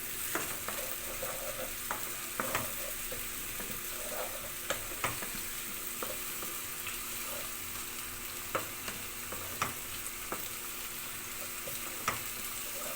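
Mashed boiled potatoes and spices for a potato bharta fry in a pan with a steady sizzle, punctuated by scattered clicks and scrapes of stirring, with no talking.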